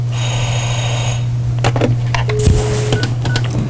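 Office telephones in use at a company PR department: a steady electronic ringing tone, then scattered beeps, clicks and handset clatter, all close and busy over a low hum.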